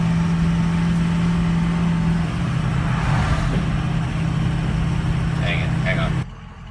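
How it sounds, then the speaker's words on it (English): A 2004 diesel truck engine idling with a misfire, cylinders dropping low, giving a steady, loud low drone with a constant hum that cuts off abruptly near the end while a person speaks over it. "There you go, just sitting here idling."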